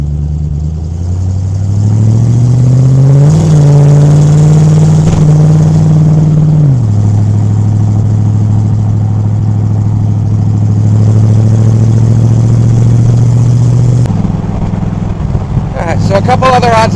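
A 1970 Ford Falcon engine runs close by, revving up briefly then settling into a steady low idle hum that shifts pitch slightly.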